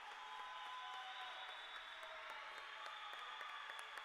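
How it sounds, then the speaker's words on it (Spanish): A crowd applauds at a futsal match, giving a steady wash of clapping that holds throughout at a moderate distance, with faint scattered sharper claps on top. "Por eso era que aplaudían."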